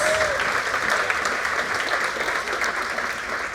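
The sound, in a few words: audience applause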